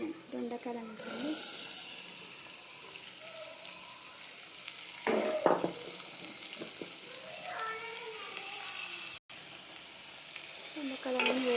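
Ivy gourd (dondakaya) pieces sizzle and hiss in a frying pan as they are stirred, with a voice talking over the cooking throughout.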